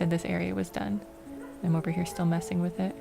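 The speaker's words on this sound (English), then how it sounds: "If you guys hear that, my dog is barking." A sleeping dog lets out short, muffled yips and barks in the background while someone talks over them.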